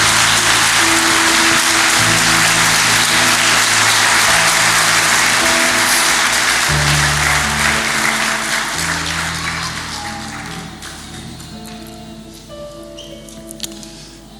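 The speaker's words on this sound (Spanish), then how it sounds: "Si le va a dar un aplauso al Señor," A church congregation applauds in praise, a dense wash of clapping that holds loud for several seconds and then thins and fades out, with a sustained organ or keyboard chord underneath.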